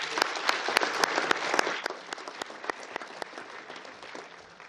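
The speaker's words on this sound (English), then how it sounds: "So let's give them a round of applause." An audience at an environmental art awards ceremony breaks into steady, dense applause that stays fairly loud throughout, thinning slightly toward the end, with no voices on top.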